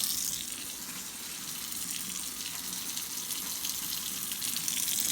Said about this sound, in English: We'll get the soap and suds out of our sponge here and give it a good rinse too